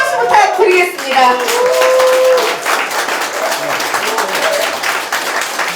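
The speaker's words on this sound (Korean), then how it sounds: "큰 박수 부탁드리겠습니다" Audience applause at a Korean education superintendent candidate's press event, a burst of dense clapping that rises after a brief announcer's voice and continues steadily to the end.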